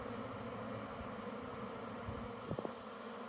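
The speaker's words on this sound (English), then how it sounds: "Man, that's a lot of bees." Honeybees in a Michigan spring swarm produce a continuous low buzzing drone, soft and even throughout, with a brief cluster of nearby knocks near the end and no talking.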